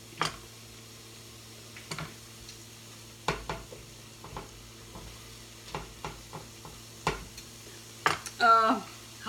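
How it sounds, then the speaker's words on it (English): Celery and onion softening in a pan, a faint steady sizzle under a low hum, broken by a series of clicking stirs and utensil taps about once a second, with a brief scrape near the end. "So we let the celery and the onion soften"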